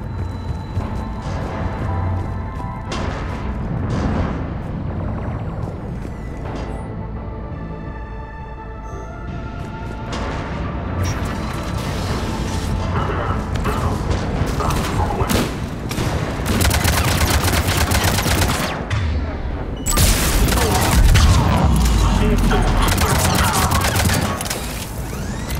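Heavy, continuous battle gunfire with rapid booming cannon shots and crashes in Mass Effect 3 Legendary Edition, loud and relentless, layered with a dense mechanical din and no talking.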